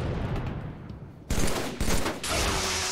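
Bursts of Halo 3 gunfire on the Blackout map during a 1v1 match, with loud sharp volleys that start abruptly, then a sustained burst of shooting near the end.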